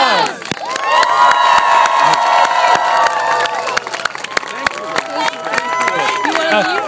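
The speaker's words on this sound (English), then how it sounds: "One more round of applause." A crowd at an Occupy Wall Street gathering outside Lincoln Center claps and cheers loudly and continuously, with shouts and whoops rising over dense applause throughout.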